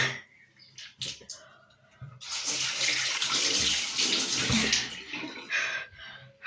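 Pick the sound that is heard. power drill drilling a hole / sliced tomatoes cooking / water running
water running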